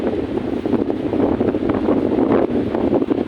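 Strong wind roars continuously against the microphone, a loud, dense rumble with surging gusts and no speech.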